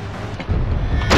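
Gunfire in the Western shooter GUN: heavy booming shots with low rumbling thuds, one near the middle and a louder blast at the end, over a dull rumbling game background.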